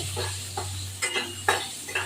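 Potato pieces frying in hot oil for a rui fish curry, a low steady sizzle under a few soft stirring scrapes and light utensil clinks against the pan, no voices.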